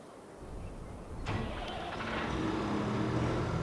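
Tractor engine cranking and catching in a farming video game, a quiet idle that rises abruptly into a steady low running drone partway through.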